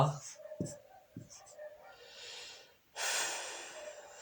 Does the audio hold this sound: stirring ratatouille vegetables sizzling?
no